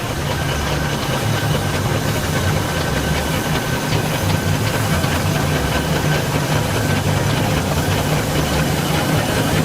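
An Aveling and Barford steam engine at a steam rally runs with a steady, dense mechanical chugging and hiss, loud and continuous throughout with no talk.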